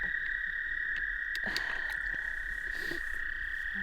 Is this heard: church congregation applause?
no